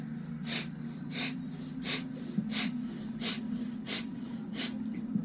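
Breath of Fire breathing through the nose: sharp forceful exhales in a steady rhythm, about seven or eight evenly spaced puffs, close and fairly quiet over a low background hum.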